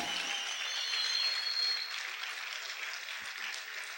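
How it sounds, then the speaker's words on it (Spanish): A church congregation applauds during a service, a dense, steady wash of clapping that stays loud and even for the whole stretch. "Aplaude fuerte al Señor en esta hora."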